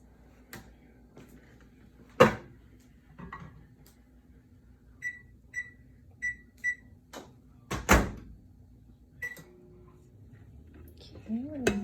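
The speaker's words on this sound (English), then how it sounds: "put those in the microwave for about 12 minutes" A microwave oven cooking baked potatoes in a Tupperware stack cooker, with door clunks, a short run of beeps and handling knocks around quiet stretches, close by.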